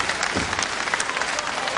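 A wrestling crowd applauds a move with steady, even clapping, while a commentator talks under it.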